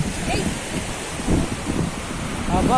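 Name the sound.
strong wind at the seashore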